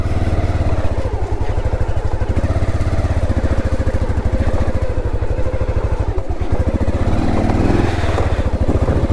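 Loud, labouring motorcycle engine chugging and revving unevenly as it grinds through a heavy off-road trail near Kabini, close up, with a rough rapid pulsing and no talking over it.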